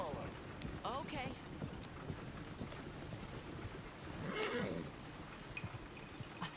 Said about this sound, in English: Look where you want to go and the horse will follow.